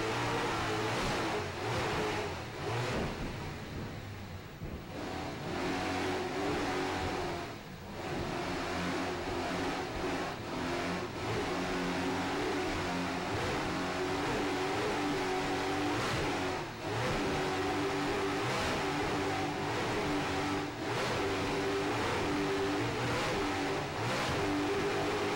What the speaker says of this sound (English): Hear those Mercury Super Cat engines screaming along there, going head north up the beach in St. Petersburg